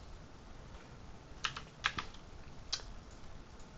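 A few scattered keystrokes on a computer keyboard while working in CAD software, soft distinct clicks over a quiet background with no talking.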